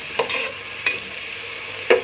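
Onions fry in a pot for spaghetti with a steady low sizzle, broken by a few scraping stirs of a spoon against the pot, with no talking.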